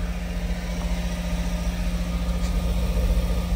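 Steady idle of a car engine during DPF regeneration as soot burns off, a low continuous hum with a rhythmic pulsing throb, close and even, with no talk.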